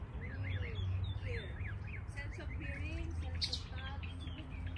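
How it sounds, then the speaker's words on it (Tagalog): Several birds chirp and twitter in quick, varied phrases in a botanical garden over a low rumbling background, with faint talking mixed in. "Naririnig mo yung tinig ng mga ibon."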